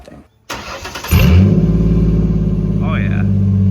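A Ford Ranger fitted with a custom Magnaflow straight pipe exhaust cranks and fires up, settling into a loud, deep, rumbling idle close by, with a voice briefly heard over it.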